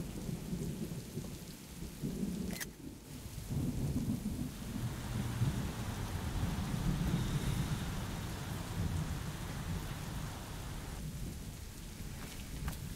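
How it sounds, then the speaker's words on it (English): Steady rain hissing on surfaces with deep rolling thunder in the video game Road 96, a constant wash of downpour and low rumbles swelling and fading throughout, with no voices. "And now it's raining."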